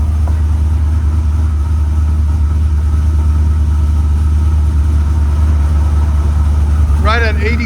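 An LS3-swapped C5 Chevy Corvette idles with its exhaust valves closed, a loud, steady, deep burble that holds constant up close, with a brief higher sound near the end.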